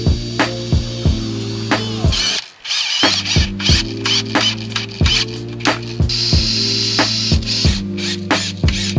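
Coated decking screws driven into a recycled hardwood bench board, the driver's ratcheting whir coming in loud, close, regular pulses, broken by one brief pause partway through.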